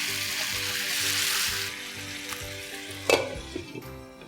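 Chicken in leftover marinade sizzles steadily in a pan while being stirred, with a louder clink of the spoon against the pan near the end.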